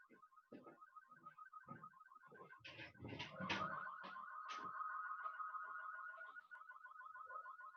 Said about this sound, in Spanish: Lamentablemente nos va a molestar un poco la alarma de mi vecino